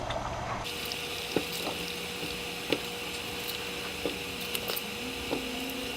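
Several ears of Jersey corn go into a pot of boiling water, bubbling and churning steadily over a constant background hum, broken by a few light knocks and splashes as the ears drop in.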